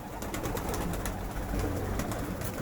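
Pet pigeons at morning feeding, a dense flock cooing and fluttering continuously, close and fairly loud, with no talk over it.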